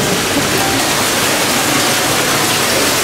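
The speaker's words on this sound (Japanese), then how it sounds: "暑 い日やっぱこういう水音聞くだけでも結構涼しくなるよね" Water flows continuously at the aquarium of a roadside station in Minakami, a loud, close, unbroken rushing with no pause.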